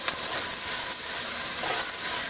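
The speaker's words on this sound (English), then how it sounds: "when you put the whole spices on the hot oil, it sizzles" Whole spices sizzle in hot oil, a loud, steady, dense crackling hiss that runs throughout with small bursts of popping and no voices.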